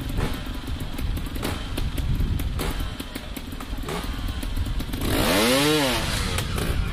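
A trials motorcycle ridden up a rock step, its engine puttering and blipping close by with clattering thumps, then a loud rising rev as the bike climbs.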